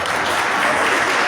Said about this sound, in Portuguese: Os aplausos é pela sua disposição de estar aqui hoje.